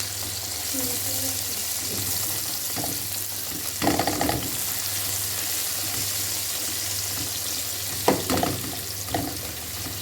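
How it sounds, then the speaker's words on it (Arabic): Onions and peppers sizzle steadily in oil under a continuous frying hiss, broken by a few louder scraping stirs around four and eight seconds; no speech is heard. "هاخد بقى البصل بقى الجميل بتاعنا دوت والفلفل، هنزل بيه بقى على زيت القمر بتاعنا ده"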